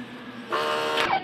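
An inkjet printer with print heads last replaced in October 2023 running a head-cleaning cycle: a steady mechanical drone that rises into a louder, tonal whirring whine for about a second, heard close and alone.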